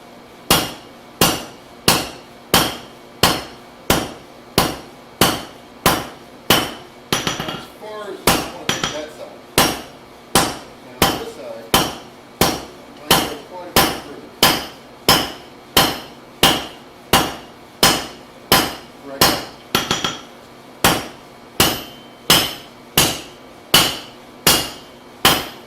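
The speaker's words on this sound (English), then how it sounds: "Because I'm hammering, I can even feel a lot of this." Hot metal is hammered during forging, sharp ringing blows landing in a steady, evenly spaced rhythm, loud and close, with a brief pause of scuffling midway before the strikes resume.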